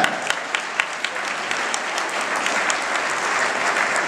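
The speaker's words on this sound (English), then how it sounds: "We're going to give him a round of applause for that." Audience applause honoring a 14-year-old's birthday at a gathering with a congresswoman, a steady crowd of clapping hands, with a few distinct louder claps at the start before settling into an even wash.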